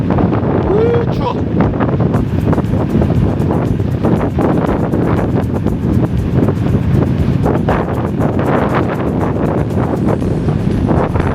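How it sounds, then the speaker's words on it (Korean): Strong wind blasts straight into a microphone outdoors in the early morning: a loud, continuous roaring rumble with gusty buffeting that never lets up. "바람이 엄청 붑니다."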